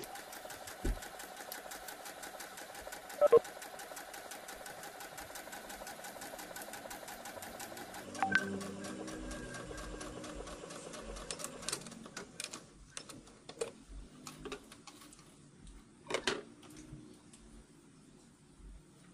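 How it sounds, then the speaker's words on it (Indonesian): A sewing machine runs steadily while stitching a cloth face mask, its fast even whir continuing for several seconds before giving way to scattered clicks and handling noises. "Kita jahit, jangan lupa dikunci di awal jahitan."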